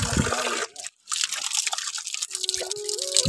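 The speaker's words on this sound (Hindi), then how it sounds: "और यहाँ पर एक बहुत ही प्राचीन धारा है, जहाँ पर अभी मुक्की भाई पानी पी रहे" Water from an ancient spring runs steadily and loudly up close, a dense rushing splash with a brief break partway through.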